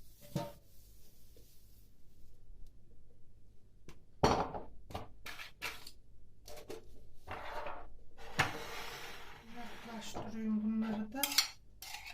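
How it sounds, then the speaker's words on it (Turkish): Dishes and cutlery clink and clatter as they are stacked away, with cupboard doors and drawers thudding shut, close by in a quiet kitchen. "Şöyle bulaşıklarımı kaldırıyorum."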